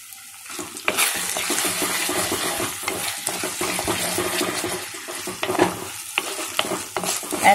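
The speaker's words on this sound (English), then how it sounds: "in this mutton handi we are going to add ginger garlic first. And then you can increase the flame here." Ginger garlic frying in a pan on high flame for mutton handi, a steady loud sizzle with frequent stirring scrapes and clatters, close-up and without voices.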